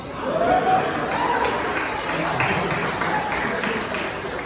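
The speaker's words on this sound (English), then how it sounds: "That is applause worthy" Audience applause at a comedy show fills the room as steady, even clapping for several seconds, with faint voices underneath.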